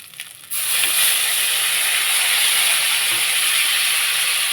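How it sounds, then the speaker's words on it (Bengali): Chopped tomato dropped into hot oil in a pan with bay leaves, setting off a loud, steady hiss that starts abruptly and holds evenly, close up, with no talking. "টমেটো কুচিয়ে রেখেছি, টমেটোটা দিয়ে দেবো।"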